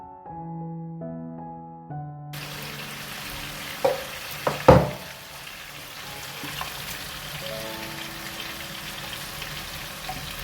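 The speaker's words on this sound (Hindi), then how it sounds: "और अब आपने इसको भूनना है इसके साथ, मसालों के साथ और प्याज के पेस्ट के साथ।" Onion paste and spices frying in a pan for chicken curry, a soft continuous crackling sizzle with a few sharp knocks of a spoon against metal, after a short musical intro and with faint music returning later.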